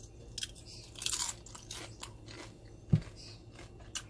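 Crunchy, smoky air-fried chicken skin is bitten and chewed up close, giving a few crisp crunches and soft chewing sounds, with one sharp bite standing out, and no talking.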